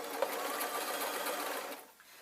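Sewing machine stitching dark linen pocket flaps for a lined waistcoat, a steady close whirring hum of fast needle strokes that slows and stops at the end, with no talking.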